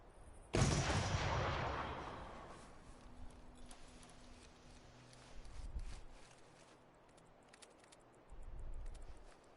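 A single sharp rifle volley fired on command, loud and close, followed by a long fading echo and low rumbles in the background.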